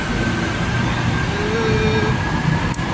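An MRT metro train rumbles steadily close by, with a high whine running through it and a brief squeal near the end.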